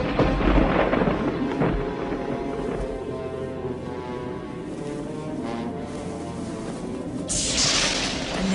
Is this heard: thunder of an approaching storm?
yes